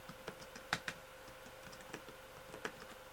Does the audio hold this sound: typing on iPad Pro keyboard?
yes